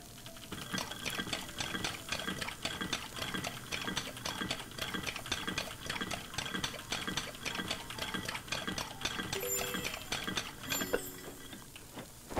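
Rapid, steady whisking of an egg in a bowl while cooking a quiche, a game sound effect with fast regular clinking strokes running evenly throughout, close and moderately loud, with small clatters near the end.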